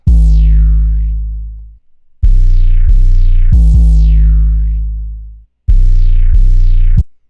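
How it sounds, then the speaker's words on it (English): Heavy booming 808 bass notes with a gritty, distorted edge and a swooping pitch drop, long sustained hits separated by brief gaps. "This 808 is insane."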